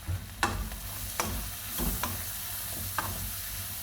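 Pansit noodles stir-fried in a hot pan give a steady sizzle, broken by several sharp scrapes and clacks of the utensil against the pan, close and fairly loud with no talking.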